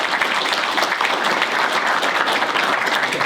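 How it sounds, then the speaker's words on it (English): A room of guests at an evening construction-industry networking event in Norfolk gives a sustained round of applause for the sponsors. The thick clapping is close and continuous for the whole stretch. "So a big round of applause for them would be amazing."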